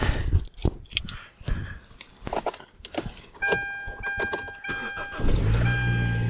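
A car's engine cranks and catches near the end, settling into a steady low idle in freezing weather with the door frozen; the car runs on a hybrid supercapacitor battery. Keys jangle and a door clunks beforehand, with no talk.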